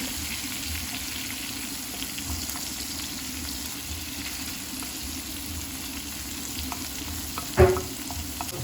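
Chopped garlic sizzles in melted butter in a pan, making a steady, soft frying hiss throughout with a single brief clink near the end, close and quiet with no talk.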